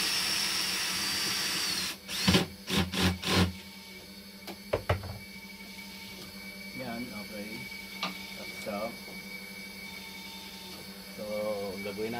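A power drill drives a screw back into a dialysis machine in a quick series of close, whirring bursts. Light clicks follow, then a voice talks over a low background hum.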